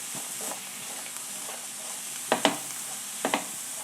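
Mushroom chilli fry cooks in a pan with garam masala, giving a soft, steady hiss close by, broken by a few short stirring scrapes.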